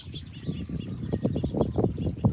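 Several birds call in a garden, mixing clear chirps and tweets with low dove-like coos, steady and fairly close throughout, with no voices.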